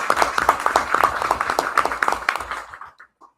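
An audience at a live business pitch night breaks into applause, a dense patter of many hands clapping steadily for a few seconds before it fades quickly to quiet with a couple of last claps.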